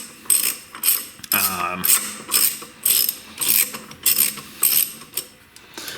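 A high-horsepower drive axle in a V8 Crossfire is pushed in and out in its cup. It gives close, repeated metallic clicks and clunks roughly twice per second with no voices.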